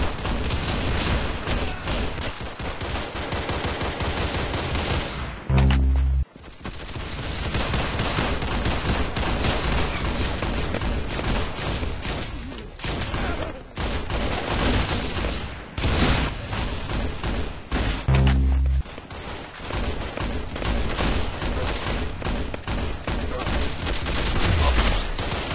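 Gunfire from the Roblox shooter game Arsenal: dense, rapid bursts of weapon shots and booms keep going almost without pause, loud and close, with a few short gaps and occasional heavier thuds.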